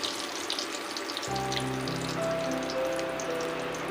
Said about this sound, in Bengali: এবার তেজপাতা আর লঙ্কা আমি ফোড়ন দিয়ে দিলাম